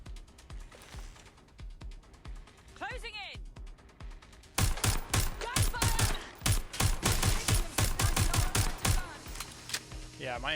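Rapid bursts of automatic gunfire from the video game Watch Dogs: Legion, first lighter shots, then loud sustained rattling volleys, with voices talking in the game alongside.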